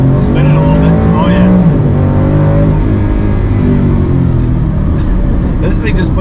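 A car powered by a Ford Performance Gen4 Coyote crate V8 with a 10-speed transmission accelerates hard, a loud, close engine roar climbing through the revs with a brief tire spin, while people talk over it.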